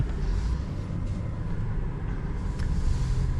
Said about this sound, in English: let us set off in the Taycan 4